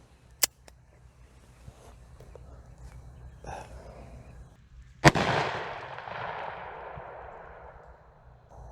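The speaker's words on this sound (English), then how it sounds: "You don't want to lose the gun while you're shooting." A Bond Arms Rough n Rowdy over-under pistol fires, with a sharp, very brief crack early on and a louder shot near the middle that trails off in a long fading echo, amid faint background noise.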